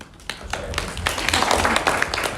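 An audience at a panel talk on renters' reform breaks into clapping, starting with a few scattered claps and building into dense, steady applause.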